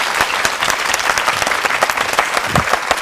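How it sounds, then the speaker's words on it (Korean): Brisk, dense audience applause in a television studio, close and steady with sharp individual claps standing out throughout. "박수로 맞이해주시기 바랍니다."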